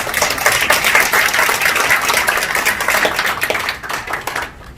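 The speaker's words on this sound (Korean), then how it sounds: "예, 박수 바랍니다." Brisk applause from attendees at a media party founding committee gathering, close and lively at first, then thinning and fading toward the end.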